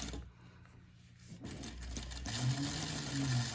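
A sewing machine stitches the seam of a frog plush toy, starting after a short quiet pause and then running in a steady close whirring hum with rapid needle ticks.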